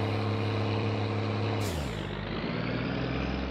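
The Gifu truck in My Summer Car: a low diesel engine drone with a sharp hiss of air brake release midway, then the engine settles to a deeper, steady rumble.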